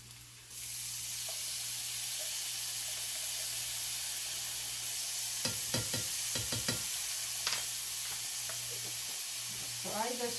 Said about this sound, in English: Now I'm going to add 2 cloves of garlic, which is about 2 teaspoons.